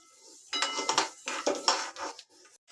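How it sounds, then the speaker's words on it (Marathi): Moong dal dry-roasting in a pan, stirred with a spoon in several close, distinct scraping and rattling strokes separated by short pauses, with no talking. "तर मी डाळ ना चांगली व्यवस्थित भाजून घेते."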